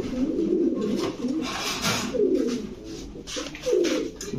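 Pigeons of Lahori, racer and Giribaz breeds cooing at close range, repeated soft throaty coos in a loose rhythm with some background rustle, no speech.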